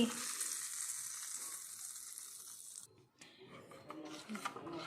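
Hot oil tempering of mustard seeds, cumin, asafoetida and dry chilli for a cucumber-seed tambuli, a soft steady sizzle that dips briefly near the end, then crackles and pops faintly again, close by.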